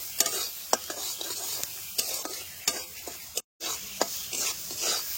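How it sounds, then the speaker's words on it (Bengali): Onion, chilli and fish with salt and turmeric sizzle and fry in a pan in a rural village kitchen, with repeated sharp scraping strokes of a spoon over a constant close crackle and one brief pause. "আবারও এগুলো একসাথে ভালো করে নাড়া চেড়ে একটু ভাজা ভাজা করে নেব।"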